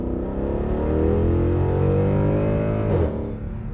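A 2012 Mercedes C63 AMG W204 with its 6.3 V8 pulls hard in sport mode, a loud steady engine drone with rising harmonics heard from the cabin, then easing off sharply near the end.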